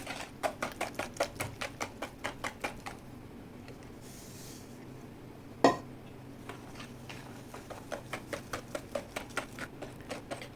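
Rapid rhythmic clinking of a spoon against a bowl while sugar is stirred into cottage cheese, quiet and close, pausing briefly midway with one louder knock before the steady scraping taps resume.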